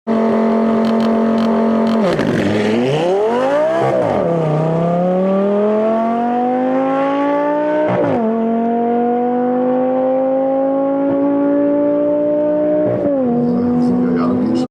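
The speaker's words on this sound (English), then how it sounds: "Lamborghini Gallardo launch control." A loud Lamborghini Gallardo Performante engine revs hard on launch control, drops, then pulls through several rising gear sweeps with brief dips at each shift, roaring continuously up close.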